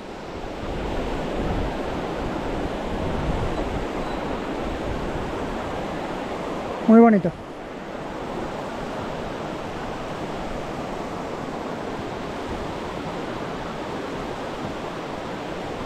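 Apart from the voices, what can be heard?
glacial river flowing, Hokitika Gorge, New Zealand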